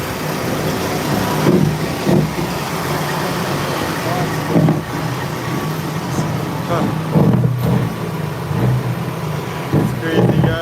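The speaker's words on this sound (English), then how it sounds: "Revving his engine at night." A big truck's diesel engine idles and revs repeatedly at night, rising in bursts over a steady rumble, while people talk nearby throughout.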